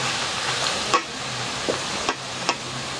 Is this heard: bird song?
no